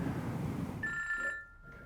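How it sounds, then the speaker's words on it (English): A telephone rings while a call is being placed, a single electronic ring tone cutting through after a stretch of low background rumble, heard alone without speech. "I'm going to phone Abby."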